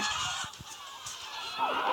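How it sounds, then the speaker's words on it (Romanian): Chickens in the Minecraft Story Mode game let out loud, nasal honking squawks, several short calls in quick succession followed by a higher cry at the end. "găinile libere"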